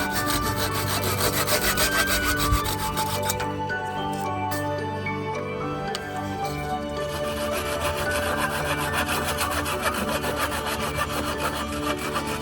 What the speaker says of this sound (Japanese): しっかりと固定して使いやすい長さに切ります。